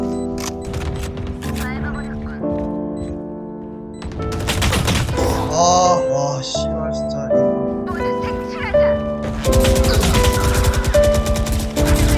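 Gunfire in Valorant bursts out in rapid volleys amid tonal game sounds and effects, with a voice speaking at points.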